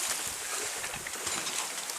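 A sailboat running downwind under jib alone in light wind of about 7 or 8 knots, moving near 4 knots; steady soft water wash and faint wind noise, quiet and continuous with no talk.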